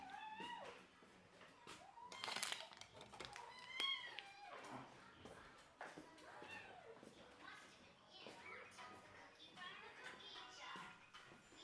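A pet cat meows several times in a quiet home, soft and fairly close, while children and other voices talk and play nearby.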